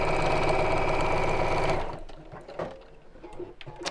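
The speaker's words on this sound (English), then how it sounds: "pull those open, squish the seams and sew" A sewing machine runs loud and steady for almost two seconds as it stitches the seams of a fabric bag, then stops, leaving soft handling noises and faint clicks.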